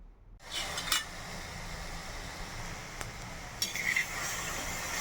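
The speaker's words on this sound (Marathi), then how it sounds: "तुरीचे दाणे असे भाजून घ्यायचे तव्यावर" Fresh farm-shelled pigeon pea grains, just washed, dry-roasting on a flat iron griddle for chutney, giving a steady soft rustle and faint crackle with a few louder scraping stirs, close and alone without talk.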